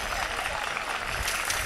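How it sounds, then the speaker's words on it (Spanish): Audience applause for a young dancer named Martina at a community dance event, a steady wash of clapping heard under a voice. "este aplauso para Martina"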